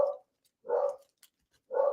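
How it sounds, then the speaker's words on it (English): A dog barking indoors, three loud, close barks spaced evenly about a second apart, with quiet gaps between and no talk over them. "Sorry, my dog's barking."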